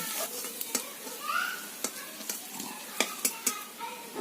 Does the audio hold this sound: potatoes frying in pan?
yes